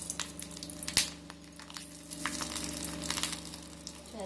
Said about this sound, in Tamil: நம்ம எடுத்து வச்சிருக்க 5-6 வரமிளகாவை இப்போ எண்ணெயில் சேர்க்கணும்.